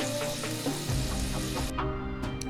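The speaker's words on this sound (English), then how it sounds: "let our bread finish toasting" Bread for a patty melt toasts in a pan with a steady close sizzle and frying crackle, shifting partway through as the hiss in the pan quiets and a few sharper pops come through.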